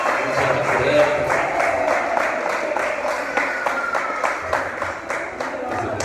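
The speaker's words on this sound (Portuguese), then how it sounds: "Aplausos, assim, irmão." A church congregation applauds during a birthday celebration at a service, with steady, moderately loud clapping and a murmur of voices through it.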